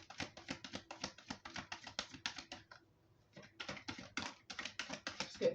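Tarot cards are shuffled by hand in rapid clustered flicks, close and crisp, in two bursts separated by a brief pause, with no talking.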